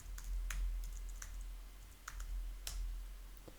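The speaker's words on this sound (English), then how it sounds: "Then type the command bin Magento and hit enter." Sparse, light keystrokes on a computer keyboard as a command is typed into a shell, a handful of separate clicks spread over a few seconds above a low steady hum, with no talking.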